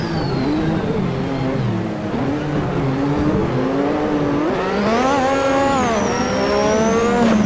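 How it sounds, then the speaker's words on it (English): A Lotus 98T turbo Formula 1 car is driven in the Assetto Corsa racing game at Adelaide. Its loud, continuous engine note swoops up and down in pitch, and a rising turbo whine climbs over the top in the last few seconds. "listen to that turbo, it just sounds so awesome"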